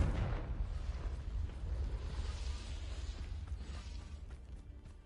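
A Confringo explosive spell from the Hogwarts Legacy video game bursts in a loud, booming blast that rumbles on and slowly fades, with no talk over it.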